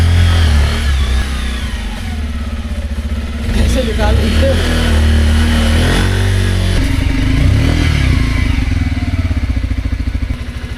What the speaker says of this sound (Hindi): इस टाइम इन पे बर्फ़ नहीं है, साफ़ है बाइक्स। तो इनको स्टार्ट करने की कोशिश करेंगे।